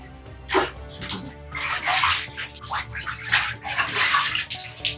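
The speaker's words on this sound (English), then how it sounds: "There's some clear water here." Water in a well is scooped and poured, giving repeated splashing gushes in irregular bursts, close and fairly loud against a steady, echoing hollow ambience.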